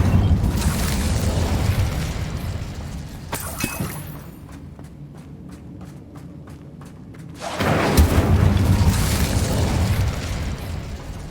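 An Incendio fire spell cast in Hogwarts Legacy during a fight with spiders: loud fiery bursts and booms, then a run of quick regular ticks, then another surge of roaring blasts.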